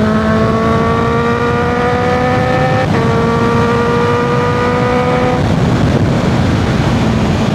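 Honda CB650R inline-four motorcycle with an aftermarket exhaust, a steady, loud engine drone with a smooth tone that climbs slowly in pitch, one brief dip partway through, heard close and alone.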